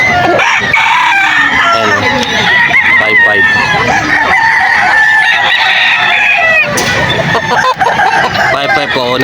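Stag roosters crow loudly and repeatedly at a busy poultry market, with clucking throughout and people talking nearby over the birds.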